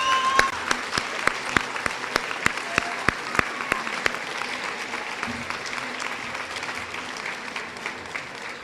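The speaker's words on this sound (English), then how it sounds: "Let's give these amazing scholars a round of applause." An audience at a junior high school academic awards program applauds scholars, a broad patter of clapping with a few sharp, close individual claps standing out early, fading slightly toward the end.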